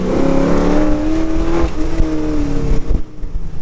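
A 1981 Z28 pro-touring race car engine roars steadily on track and climbs in pitch as it accelerates, loud and close, with a brief dip near the end.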